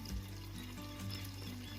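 Rice being washed in water for a vegetable biryani, a faint, steady swishing and trickling of water with a low background hum, no voices.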